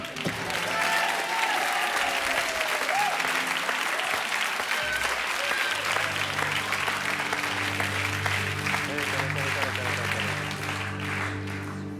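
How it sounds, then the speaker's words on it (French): A French TV game show studio audience applauds loudly and continuously, dense clapping filling the room, with some voices and crowd noise mixed in beneath it. "Je comprends que vos applaudissements soient les encouragements"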